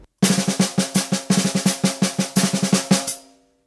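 Snare drum fill with the accented notes doubled as double strokes, sounding as a fast run of sharp, loud hits grouped into repeating accented clusters, close up, with nothing else heard, ending in a short ringing decay.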